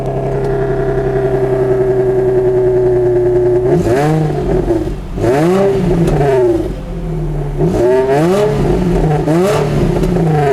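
An Infiniti G35 with a modified exhaust idles with a loud steady drone, then is revved hard several times close up, each rev rising sharply and falling back.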